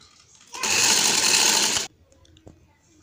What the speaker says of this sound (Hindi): मैं पूरी सिलाई इसी तरह लेती हुई जाऊंगी।